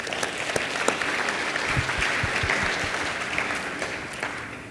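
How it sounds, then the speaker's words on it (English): Steady applause from an audience filling a conference room, dense and sustained at even loudness throughout with a few sharper claps standing out. "everyone in this room deserves a round of applause"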